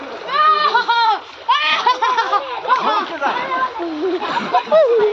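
Water splashes while a cow is bathed outdoors, with several people talking and laughing loudly over the intermittent splashing.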